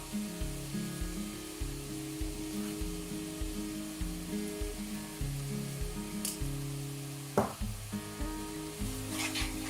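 Apples with sugar stew in a pan, a steady sizzle under a repeating rhythmic mechanical hum, with one sharp knock near the end and no talking.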